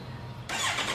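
A 2026 Kawasaki Z1100 SE motorcycle fires up midway through, a short whine giving way to a loud, broad engine roar after a quiet idle-like hum.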